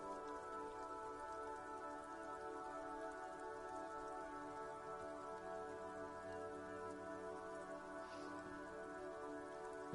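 Rain drips steadily onto Eternite-covered roofs along an urban coastline in the game Disco Elysium, a soft, even patter with a constant low hum beneath it and no voices.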